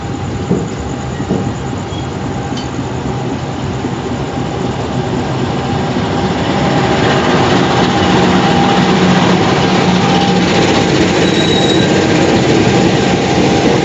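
Malabar passenger train of Indonesian railways at Malang station, a steady loud rumble of wheels and carriage noise that grows fuller after the midpoint, with a faint squeal near the end and no voices.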